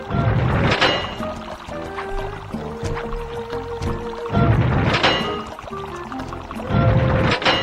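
Water rushes through valves in the PS2 game Sly 2: Band of Thieves: a steady pouring gush, swelling loud in three surges over a busy game soundscape with music.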